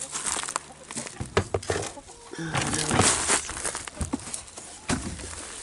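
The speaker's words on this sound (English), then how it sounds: "The chickens are still getting out." Farm chickens clucking nearby in short scattered bursts, with rustling and fluttering among them and soft background noise between calls.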